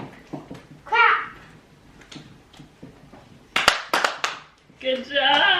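A few sharp hand claps in a quick rhythm at home during a homeschool day, set among a child's chatter and babbling before and after.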